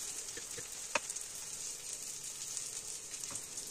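Egg mixture poured over sautéed vegetables, including tomatoes, in a frying pan for a pizza omelette, giving a steady soft sizzle with a few light clicks of a utensil.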